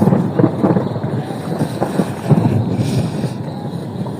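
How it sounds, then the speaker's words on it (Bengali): Thunder rolls low and continuous from heavy rain clouds over a rice field during a storm, a deep rumbling swell with wind buffeting the microphone, no speech on top. "আকাশে প্রচুর মেঘ ঘুরতেছে, আর দিনে প্রচুর ডাকতেছে।"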